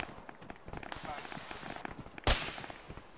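Gunfire in a military video game, rapid sharp cracks and pops scattered throughout with one loud close burst near the end, mixed with footstep-like thuds and quiet talk.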